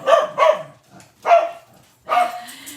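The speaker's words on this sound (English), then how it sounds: "She knows exactly when to bark, and she doesn't know when to stop barking." Lola the dog barks in several loud, close bursts: a quick double bark, a pause, a single bark, then another bark, each sharp and full.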